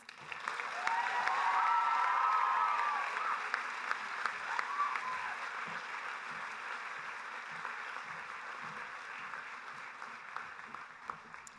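A large audience of about two thousand applauds at a high school class of 2017 commencement, dense sustained clapping that swells early then gradually thins out over several seconds.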